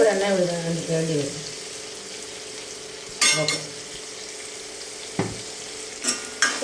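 Ginger fries and sizzles in hot oil for a Kerala inji curry, with a spoon stirring through it; steady sizzle underneath and a few sharp scrapes and clinks against the pan, close by, with no talking.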